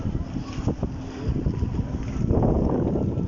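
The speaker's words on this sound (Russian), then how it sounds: "Ветер, сука, меня ушатывает" Strong wind buffets an outdoor microphone in continuous, roaring gusts that swell louder toward the end, with no voices in between.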